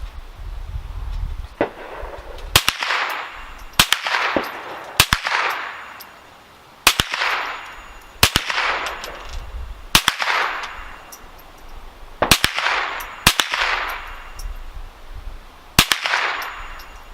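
A GSG-15 .22LR rifle fired through a full magazine outdoors, a dozen or so sharp, loud single cracks spaced roughly a second apart, each followed by a short ringing echo, with no speech.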